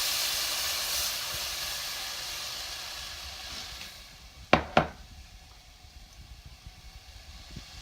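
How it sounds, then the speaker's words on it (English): Broth poured into a hot roux in a soup pot for baked potato soup: a steady steamy hiss that fades, then two sharp close knocks or splashes and a quieter tail. "So now we're adding in our broth."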